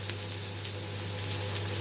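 Fennel seeds popping and sizzling in hot oil with finely chopped onion, a steady close frying hiss with small crackles throughout.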